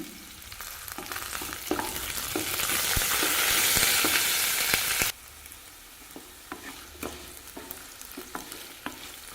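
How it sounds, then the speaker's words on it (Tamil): Indian gooseberries sautéing in an oiled pan with curry leaves for chutney give a steady close sizzle that swells into a loud hissing burst, then settles back, with stirring clicks and scrapes of the spoon throughout. "நெல்லிக்காய் நல்லா வதங்கிடுச்சுங்க"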